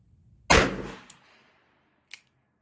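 A Smith & Wesson 586 Classic revolver fires a single loud, sharp shot downrange that decays over about a second, with a small click before it and a faint, brief second report far behind it.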